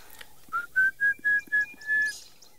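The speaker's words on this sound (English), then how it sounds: "You hear that orange-breasted bushshrike." An orange-breasted bushshrike calls with a series of five or six clear, evenly spaced whistled notes, loud and close, over a quiet background of faint birdsong.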